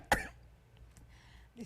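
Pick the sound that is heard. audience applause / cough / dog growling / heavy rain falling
cough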